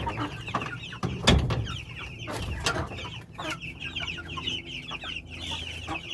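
Chickens cluck and squawk on a poultry farm in Trelawny, a busy flock of overlapping close and distant calls with one louder burst, plus scattered clucks throughout.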